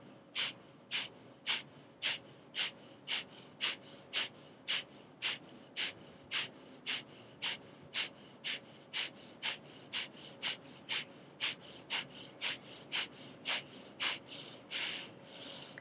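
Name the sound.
breathing during vinyasa yoga exercise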